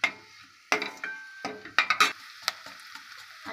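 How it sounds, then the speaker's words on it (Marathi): Onion sautéing in a pan for pav bhaji, heard as short bursts of sizzling and clattering stirs against the pan, uneven and close, separated by quieter gaps, with no talking. "हा कांदा मस्त असा लालसर होऊन परतून देऊया"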